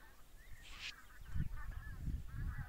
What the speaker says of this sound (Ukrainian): То гуси летять.